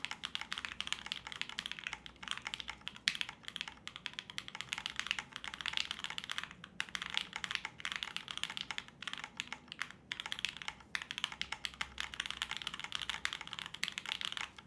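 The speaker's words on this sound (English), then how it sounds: "this is the FLX Virgo round 2 with an aluminum plate, nothing else inside, and the rubber grommets. So let's see what this sounds like." Steady, continuous typing on an FLX Virgo round 2 keyboard with an aluminum plate and rubber grommets, crisp keystrokes running evenly throughout at a modest, close level.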